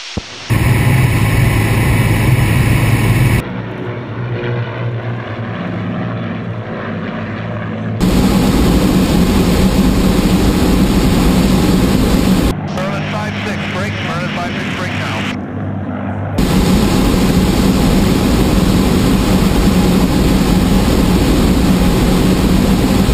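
A formation of vintage warbirds powered by Rolls-Royce Merlin engines, including a Hawker Hurricane, passing over an airfield; loud continuous propeller engine roar with abrupt cuts in level, with a voice talking over it.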